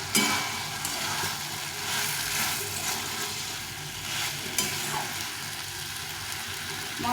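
Fried vegetables being stir-fried with spices in a pan for a thin fish curry, with steady sizzling and frying hiss and the occasional scrape of stirring, close and continuous throughout.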